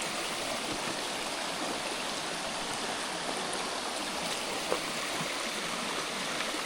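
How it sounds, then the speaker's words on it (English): A small stream and waterfall on the Appalachian Trail gush after heavy rain, a steady broadband rush of water that holds constant and fairly close throughout, with no talking. "We got ourselves a little stream and waterfall."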